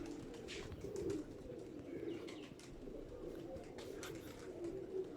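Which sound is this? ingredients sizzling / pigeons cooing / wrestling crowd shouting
pigeons cooing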